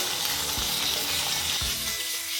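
Salted potato pieces fry in a pan with a steady, close sizzle, broken by a couple of brief stirring scrapes and clinks.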